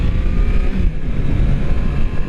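A 2022 Triumph Tiger Sport 660 motorcycle's engine pulls steadily and loud, a rough low drone mixed with wind rush, holding fairly constant rather than climbing through a clear rev sweep.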